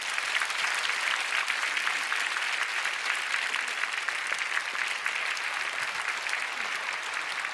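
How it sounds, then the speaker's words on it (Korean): A church prayer-meeting audience claps to welcome a speaker, producing dense, sustained applause at an even level from many hands, no voices over it. "오늘 환영의 마음을 담아 힘찬 박수로 환영하겠습니다."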